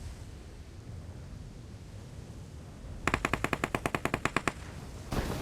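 Rapid burst of automatic gunfire in a bootcamp-mode video game, about a dozen evenly spaced loud shots after a few seconds of low background noise, followed by another short blast at the end.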